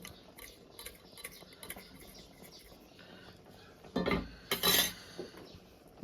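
A tuber curry, nagali dumpa pulusu made in an Adivasi style, being stirred in a metal cooking pot: light clinks and ticks of the spoon, then a louder cluster of scraping knocks near the end, close and alone.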